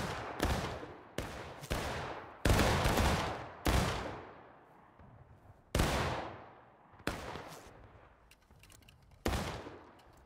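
Musket volleys and single shots from infantry firing in the Civil War battle game War of Rights, heard as sharp cracks in irregular bursts, each trailing off in a long rolling echo across an open field.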